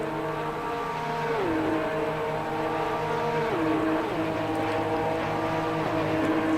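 Porsche Sprint Series race cars at Monza roar past steadily, with engine tones rising and dropping as the drivers shift gears. The racing engines hold a constant, loud drone throughout.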